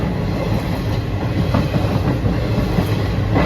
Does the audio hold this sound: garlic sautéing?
no